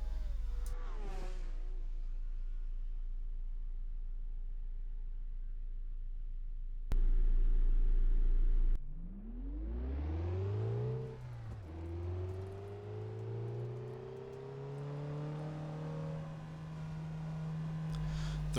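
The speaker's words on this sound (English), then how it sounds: "There's a couple of cars coming from both directions." A couple of cars drive past from both directions on a steep road. Engines rise and fall as each one passes close by, over a steady low rumble, with no talking.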